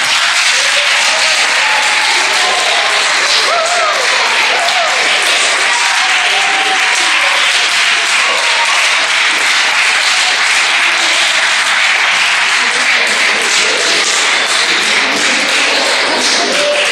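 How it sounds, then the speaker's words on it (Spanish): An audience claps after a traditional folk tale told at a local gathering, a loud, dense and continuous round of clapping that keeps going steadily for many seconds without talk. "¿podíais aplaudirme? Que era un cuento muy guapo."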